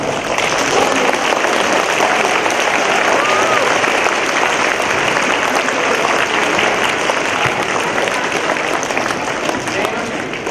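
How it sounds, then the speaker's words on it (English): An audience at a school Veterans Day assembly applauding, a loud sustained roar of clapping from a large crowd that continues unbroken for about ten seconds. "I would ask you to join me in giving a round of applause to all of us."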